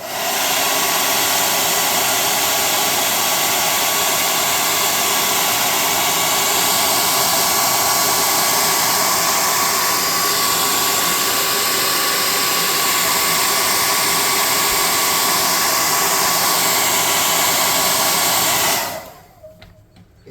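A hair dryer blows on a tabletop terrain piece, a loud, steady roaring whoosh held continuously for about nineteen seconds before it cuts off abruptly.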